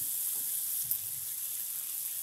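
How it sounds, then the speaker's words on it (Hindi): Tomatoes fry in a pan as they are stirred, giving a steady, hissing sizzle that stays even and moderately quiet throughout, with a single faint knock and no voices. "तो इसे भी हम चलाते हुए भून लेंगे।"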